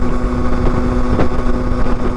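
A dirt bike ridden along a road to Ulu Choh dirt park gives a steady, loud engine drone with constant wind rush, holding an even note throughout.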